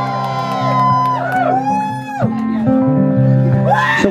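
A concert crowd whoops, screams and cheers loudly over a sustained musical drone, with rising shouts toward the end.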